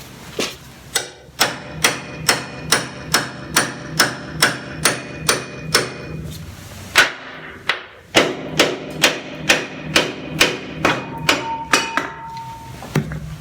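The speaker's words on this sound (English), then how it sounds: "this shock's quite badly corroded on. With a punch, and quite a lot of WD-40s coming off." A hammer drives a punch against a badly corroded rear shock absorber on a Land Rover Series 1, striking in two runs of evenly spaced, sharp metallic blows with a brief pause between them.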